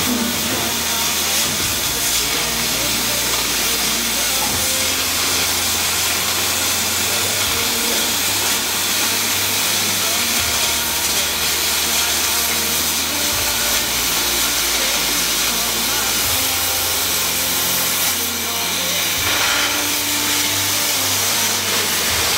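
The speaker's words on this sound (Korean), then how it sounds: "마킹된 부분을 라인에 따라 재단 작업을 진행해줍니다" A steel H-beam is cut along a marked line while connecting beams are fabricated during the renovation of an old multi-family house. A loud, continuous hissing, grinding roar runs the whole time, with a steady low drone pulsing underneath and no talk.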